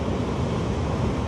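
Pacific Ocean waves wash against a jetty in a steady, loud roar of surf with wind rushing across the microphone.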